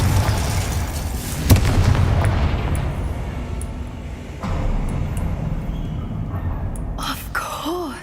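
In the video game Hogwarts Legacy, a Confringo spell blasts out as a fiery explosion, with a sharp boom and a rumbling burst, followed by further impacts and crackling magical effects among loud game sounds.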